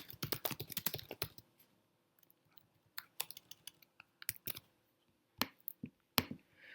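Close, crisp keystrokes on a computer keyboard while code is being written, arriving in quick bursts separated by short quiet gaps, with no voices.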